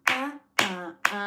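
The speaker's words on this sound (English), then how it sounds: "if you were to clap that" Three sharp hand claps land in an even rhythm, each a crisp, close crack followed by a brief ringing tail, with short silences between them.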